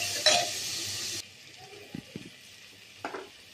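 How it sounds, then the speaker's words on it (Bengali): Onion and potato fry in oil in a pan: a bright sizzle for the first second, then quieter pan noise with a few soft scrapes of stirring. "আলুটাকে ওর সঙ্গে একটু ভাজা ভাজা করে নেব"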